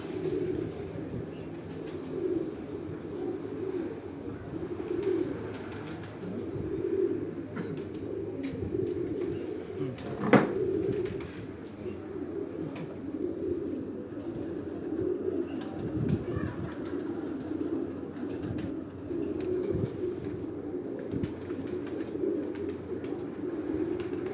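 Rooftop pigeons at a breeding loft coo steadily in a low, droning chorus, with a sharp flap or knock midway and scattered rustles, no voices over it.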